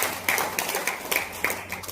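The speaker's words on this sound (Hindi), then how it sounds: "जोरदार तालियां" A crowd at an RCM business gathering applauds a guest speaker with loud, fairly close clapping that pulses in a rough steady rhythm for a couple of seconds.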